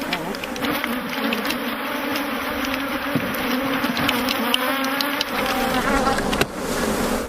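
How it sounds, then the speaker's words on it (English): A dense swarm of honey bees buzzes continuously, close and steady, with occasional clicks and knocks underneath, as bees are shaken out at an African beehive. "as many bees as possible are shaken out so that they can return to their queen"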